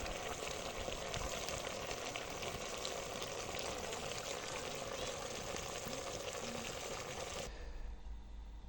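Beef, pork and poultry sizzle and crackle loudly in a hot cauldron over a campfire, a dense steady frying hiss that suddenly drops away near the end.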